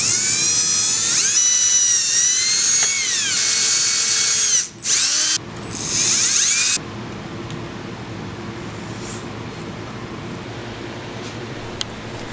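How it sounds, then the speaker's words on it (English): A power drill whines at high pitch while boring a hole for a power cord in a wooden phone holder, briefly cutting out mid-run, then giving way to a quieter steady hum. "We have to put the hole for the power cord to come out. So to do that, I'm just going to use the drill"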